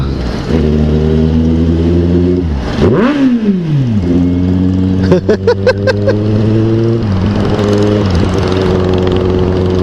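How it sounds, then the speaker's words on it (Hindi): A motorcycle engine revs hard, near and loud, with a steady idle broken by rising and falling throttle blips and a burst of quick rev pulses, on a road trip from Hisar to Dehradun. "रेव बम सुनना है इसका।"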